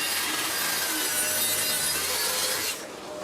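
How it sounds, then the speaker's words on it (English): A track saw cuts along the edges of a wooden picture frame with a loud, steady rasping roar that stops abruptly near the end, leaving a quieter hum. "I'm cleaning up the edges of the frame with the Tracksaw."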